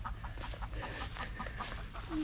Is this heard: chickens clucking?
yes